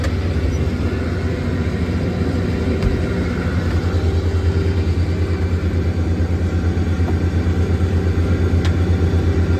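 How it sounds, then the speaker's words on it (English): A truck engine runs steadily at close range as it backs up to a hay bag during a first-crop hay harvest, a continuous low rumble with no talk. "Okay, we have our first truck backing up to this bag."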